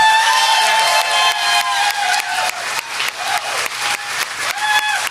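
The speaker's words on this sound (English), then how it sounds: "I know you're applauding that" A live podcast audience applauds, a loud and lively run of crowd clapping that carries on steadily for several seconds.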